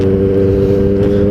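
A Kawasaki ZX-4RR motorcycle engine hums steadily while riding, a close, continuous droning tone with no voices over it.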